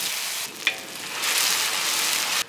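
Spices and four-spice blend with lemongrass dropped into hot oil, frying with a steady close hiss that swells into a louder sizzle, a brief clack near the start, then cutting off.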